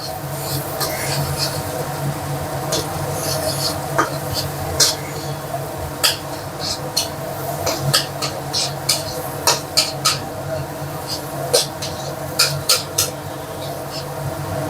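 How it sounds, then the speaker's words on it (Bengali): Egg fries and gets stirred in a pan for Bengali fried rice, with steady sizzling and repeated spatula scrapes and taps against the metal, while someone talks over the cooking. "এখানে ডিমটা দিয়ে দিলাম ডিমটাকে একটু নেড়েছে ভেজে নেব"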